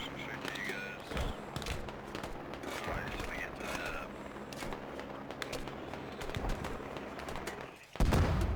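Gunfire sounds off in the military shooter game Squad as a scattered series of sharp, distant-to-mid shots and short bursts over a steady background ambience, ending with a sudden louder burst.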